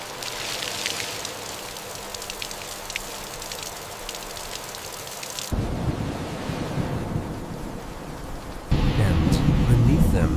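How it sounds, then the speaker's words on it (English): Heavy, slanting storm rain pours steadily as a broad wash of noise, growing louder in two abrupt steps as wind-driven gusts intensify; no voices are heard. "The onset of the storm brings heavy, slanting rain."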